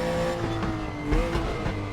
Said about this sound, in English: obviously the BMW M1 Pro car features in various sims, all of which do a reasonable job of capturing the sound of this thing